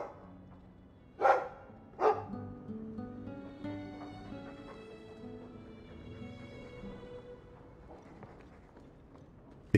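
Two sharp dog barks from Dragon Age 2 ring out near the start, followed by layered game music and faint footstep-like sounds under a soft background.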